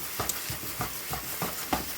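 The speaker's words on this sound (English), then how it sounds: "we are frying up so much veg" Vegetables fry in butter in a pan, a soft continuous sizzle broken by roughly six evenly spaced stirring scrapes, close and fairly quiet with no talking.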